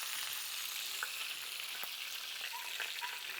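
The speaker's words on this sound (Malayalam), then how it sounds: "നമ്മുടെ ചിക്കൻ ഇങ്ങനെ നല്ല രീതിയിൽ ഫ്രൈ ആയത് വരുന്നുണ്ട്" Chicken pieces frying in hot oil in a pan, a steady, even sizzle throughout with a few faint clinks of stirring or turning.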